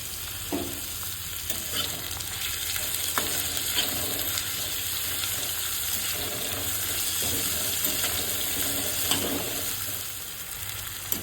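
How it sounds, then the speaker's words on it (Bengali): Onions frying in oil with a pinch of salt for a Bengali chicken Mughlai pulao, a steady close sizzle with occasional stirring scrapes running throughout, no talk. "পেঁয়াজটা যতক্ষণ ভাজা হচ্ছে"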